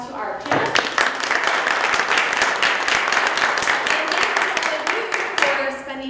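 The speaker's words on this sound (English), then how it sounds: "I wanted to give a round of applause to our panelists" An audience at a Friday morning panel session claps for the panelists, dense steady applause swelling in after a brief pause and holding at an even level before thinning out toward the end.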